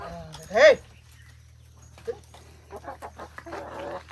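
A single short dog bark or yelp rings out close by, followed by people talking nearby.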